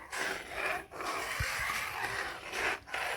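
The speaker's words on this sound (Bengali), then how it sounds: "যতক্ষণ এই দুধে উতাল না আসে ততক্ষণ আপনাকে নাড়তে হবে" Milk stirred in a pot for sabu rasmalai, with powdered milk mixed in, gives a steady scraping, rubbing swish that repeats in slow strokes, close and continuous with no voices.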